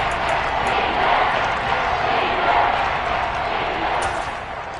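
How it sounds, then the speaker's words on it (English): A large crowd in the stands at an American football game between the Texans and Browns makes a steady, dense roar. It swells slightly and then eases off near the end, with faint voices mixed in. "Crowd getting in it a bit already."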